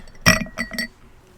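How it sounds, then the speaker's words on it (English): Two large ice cubes drop into a glass, making one sharp close clink followed by a couple of quicker, lighter clinks as they settle. "We got 2 large ice cubes"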